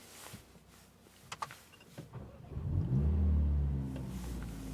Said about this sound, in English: if you start the car and hold simultaneously one pedal shifter, you will have a louder startup